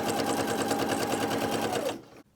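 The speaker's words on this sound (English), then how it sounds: "using a regular straight stitch, we're going to stitch very close to those folded edges to attach them together" A sewing machine runs a regular straight stitch close to folded fabric edges to join a seam, a steady rapid whirring chatter held for about two seconds before it slows and stops.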